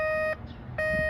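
A SkyCruiser metal detector swept over a quarter on asphalt gives a steady, loud electronic tone. The tone cuts out briefly and then resumes.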